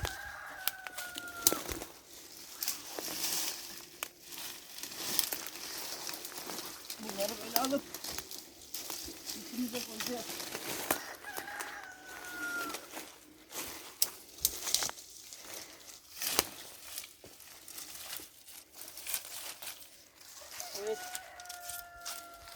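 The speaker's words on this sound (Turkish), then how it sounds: "Tavukların da sesi geldi." Rooster crowing a few times and chickens clucking at a distance beside a forest, mixed with outdoor rustling and footsteps and a voice talking over it.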